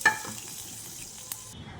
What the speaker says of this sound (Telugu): స్టవ్ ఆఫ్ చేసి ఈ తాలింపుని మునక్కాడల పప్పుచారులో వేసేద్దాం.